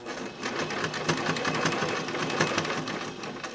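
Sewing machine stitching at steady speed: a fast, even mechanical whir and chatter, close and continuous, with no talk.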